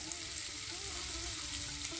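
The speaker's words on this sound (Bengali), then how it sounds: "এদিকে আমার চিকেনটা ভালোভাবে ভাজা হয়ে গেছে" Chicken pieces fry in a pan while chicken soup is being made, producing a faint, steady sizzle with a soft continuous hiss over the short stretch.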